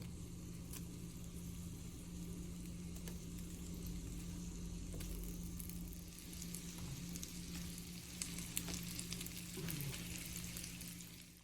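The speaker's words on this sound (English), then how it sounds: "Now we are sauteing our onions" Onion rings sauté in melted butter in a pan for a beef liver and onions dish: a steady, close sizzle and crackle runs throughout with no talking.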